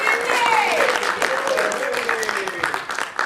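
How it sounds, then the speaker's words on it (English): An audience at a magic show claps warmly in steady, continuous applause that tapers slightly toward the end, with a few voices calling out over it. "Please give her a nice round of applause."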